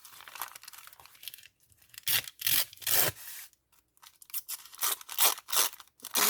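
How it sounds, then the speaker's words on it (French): Paper embellishment for a junk journal belly band being cut by hand with scissors, a series of close crisp snipping and rustling bursts separated by brief pauses, with no talk. "ça, je pense que je vais le découper à la main."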